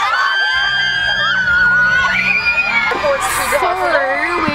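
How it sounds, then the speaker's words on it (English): A crowd of people screams and shouts outside the venue of an Amplify show, with high, wavering cries layered over one another. A low, steady tone hums underneath, and the noise rises louder and busier toward the end. "people right out here like screaming out."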